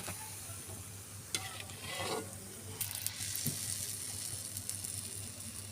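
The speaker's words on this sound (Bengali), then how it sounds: "চপ ভেজে নিলাম।" Green banana chops fry in hot oil, a steady soft sizzle with occasional clicks and scrapes of a utensil moving through the pan, no talking.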